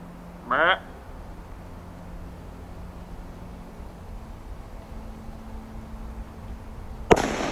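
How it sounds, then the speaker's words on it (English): A hunting rifle fired at a deer in a food plot during a Maine deer hunt: one sudden sharp crack near the end after quiet outdoor stillness, with a brief faint sound earlier. "I just shot Droopy"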